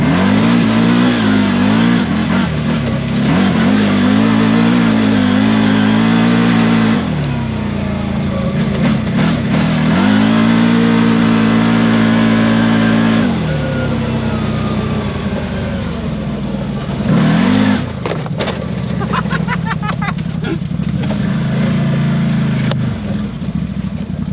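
A CFMOTO Z-Force 950 HO EX side-by-side accelerating hard in high sport mode, two-wheel drive, with repeated loud revving surges that climb, cut off and climb again, close and dominant over rough off-road rattling.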